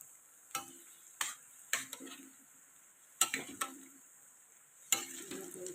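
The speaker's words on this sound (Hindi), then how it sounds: "चलिए इनको हल्के हल्के से घुमा देती हूँ, थोड़ा अलग पलट देती हूँ ना, इनको तेल में लगने का डर रहेगा।" Food frying in oil in a kadhai is turned gently with a utensil, giving several sharp scraping knocks with short bursts of sizzle after each, spaced irregularly over a quiet background.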